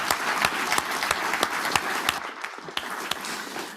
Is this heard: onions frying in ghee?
no